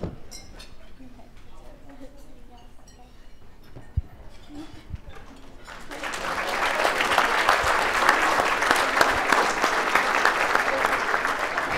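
Audience at a Junior Achievement Hall of Fame awards dinner breaks into sustained, loud clapping after a quieter stretch with a few clinks and murmurs.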